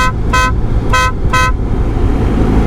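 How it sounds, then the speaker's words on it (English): Three loud, close honks from a motorbike horn, each about a quarter second long, blaring over a steady rumble of idling engine and road noise. "that's what a bloody horns should sound like"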